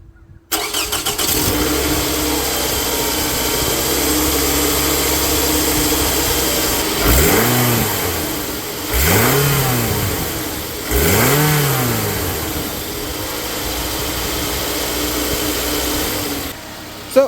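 A Toyota Camry engine cranks and fires, settles into a steady idle, then revs up three times in succession before dropping back to idle, recorded close by with no talking.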